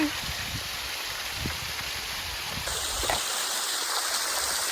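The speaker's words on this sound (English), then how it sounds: "And one more waterfall." A small roadside waterfall on a mountain road in Ecuador gives off a steady broadband rush of falling water, continuous and fairly close, without pauses.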